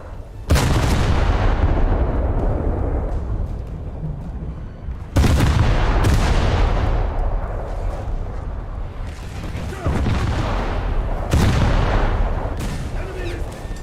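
Warship gunfire and bombing in a naval video game, a Scharnhorst battleship in the fight: three heavy, sharp blasts land roughly four seconds apart, each followed by long rumbling decay over constant battle noise.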